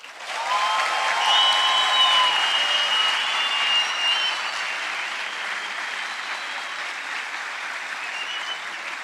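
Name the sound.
audience applause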